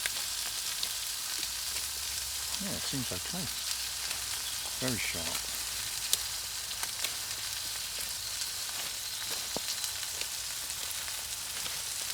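Lamb burgers fry in a pan over a Trangia burner set in a Bushbox XL stove, giving a steady, even sizzle throughout, with someone speaking briefly now and then.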